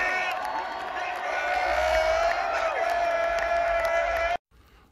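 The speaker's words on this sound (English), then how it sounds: "the crowd goes crazy, starts yelling MVP" A large outdoor crowd roars and cheers at the Denver Nuggets championship parade, a dense, sustained wall of yelling voices and whoops filling the street, closely miked, with a sharp cut to near silence at the end.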